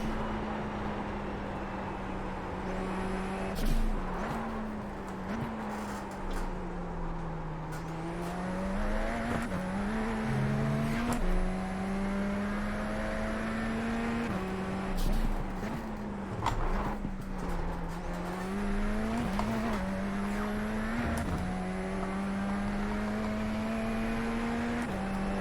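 Radical SR10 race car driven in the iRacing simulator, its engine note holding a steady drone with repeated gear-shift dips and rising revs, tyres squealing in places, loud and continuous throughout.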